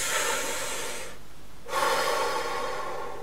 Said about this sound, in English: This is called a dual 80-10 breath.